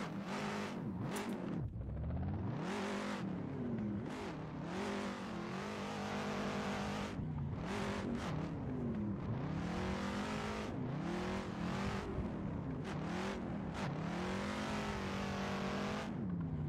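A race car in a sim racing game, run on a high-camber ProAM car pack with a MOZA R21 wheel, drives flat out with loud continuous engine revving, gear changes and pitch sweeps throughout, no talking.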